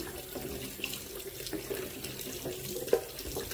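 Tap water runs steadily over vegetables being washed in a sink, a continuous close splashing stream with a few small knocks and clatters of produce against the basin.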